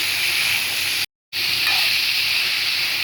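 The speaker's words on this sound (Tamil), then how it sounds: "ஒரு 2 நிமிஷம் வதக்கிக்கலாம்." Mango, potato and peas sauté in a pan for a curry, giving a steady close hiss and sizzle that cuts out for a moment and then resumes.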